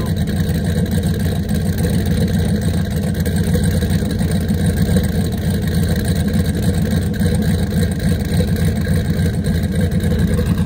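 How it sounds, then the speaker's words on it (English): A car engine idles steadily up close, a continuous low rumble with an even mechanical hum and no revving, on a car losing oil pressure. "It's idling good."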